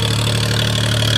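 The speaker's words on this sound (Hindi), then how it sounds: "ट्रैक्टर ज़्यादा दब के चल रहा है, फंस रहा है" Swaraj 834 XM tractor engine labouring steadily in a muddy field, a loud, constant low-pitched drone with no talk.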